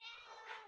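A pet cat gives a single short meow, close and fairly quiet, with no one talking.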